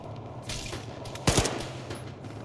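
Gunfire in the Arma 3 Antistasi mod during a community event, a low steady battle rumble with a sharper burst of shots near the middle, moderately loud and without talk.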